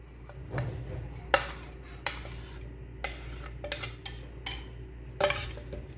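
A spoon clatters and scrapes against a bowl while egg is mixed, giving a string of sharp, close clinks and taps in irregular bursts over a quiet background, with no talking.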